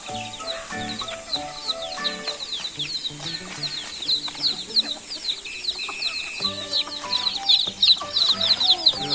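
Backyard domestic chickens cluck repeatedly and closely in a steady, busy chorus with scattered higher calls, no voices.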